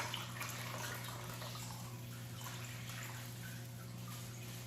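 Water is poured in a steady, soft, continuous stream while tending an aquarium of guppies, with no talking and a faint even wash throughout.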